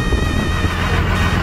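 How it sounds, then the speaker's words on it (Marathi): Strong wind buffets a fishing boat at sea in a storm, a loud, continuous roar with gusting microphone rumble and engine-like hum underneath, no talk. "वाऱ्याचा वेग कमी होत नाही आणि लाटांची वेदना पण कमी होत नाही"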